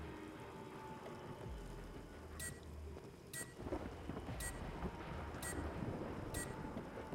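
Rain falls steadily in the video game Killing Floor 2, with low rumbling thunder swelling in the middle and continuing under a series of sharp, evenly spaced high clicks; no one speaks.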